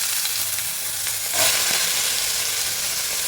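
Garlic and ginger slices sizzle steadily in hot oil for a sardine pickle, a close, continuous frying hiss that swells briefly partway through as more goes into the pan.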